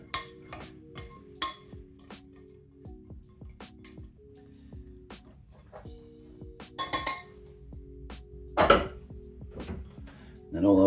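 Utensil scraping and clinking against a pan and dish while food from an aubergine, courgette and pork bake is scooped out, a series of sharp close knocks and scrapes with quiet gaps between.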